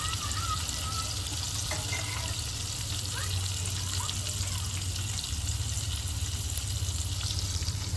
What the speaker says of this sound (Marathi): शालो फ्राय करून घेते भाज्या